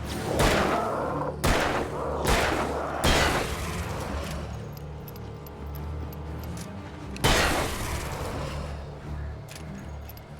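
Gunshots ring out in the video game Alan Wake, several loud separate cracks with reverberant tails spaced over a few seconds, then another blast after a pause, over low ambient game sound.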